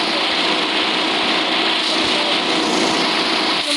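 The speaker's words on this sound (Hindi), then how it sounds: "देख लो क्या है यार इसका इंजन।" A car engine in a car simulator video game runs with a loud, steady, high-pitched whine and drone, constant throughout with no pauses.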